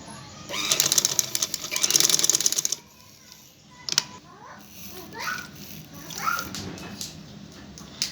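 A sewing machine stitches piping cord onto the edge of a dupatta in a fast, rattling burst, then stops; someone speaks afterward with faint background sounds.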